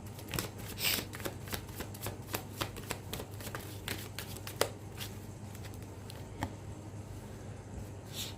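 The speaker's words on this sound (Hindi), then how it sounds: "सिंगल शफल रहेगा ईश्वर" Tarot cards shuffled in a single pass, a run of quick papery riffles and soft flicks with a few sharper snaps, close and moderately quiet, over a low steady hum with no talking.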